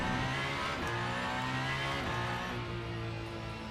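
Alpine A424 hypercar in the Le Mans Ultimate racing game powering hard out of a corner at Spa-Francorchamps, its engine note rising steadily and loud with a short gear-change dip, no talking.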